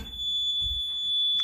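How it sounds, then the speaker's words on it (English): Piezoelectric warning buzzer in a 1986 Porsche 944 emits a steady, piercing high-pitched tone that holds throughout, with faint low rumble beneath. "the buzzer sounds"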